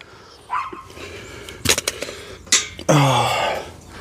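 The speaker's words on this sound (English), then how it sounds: "Or are you just gonna sit there and bark? No, you just can't sit there and bark." A dog outdoors barking in a few short, sharp bursts at moderate distance, with a longer rough bark near the end and faint background noise.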